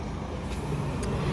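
Road traffic passing close by horse riders on a country road: a continuous broad motor roar of a vehicle going past, fairly loud and steady for the whole moment.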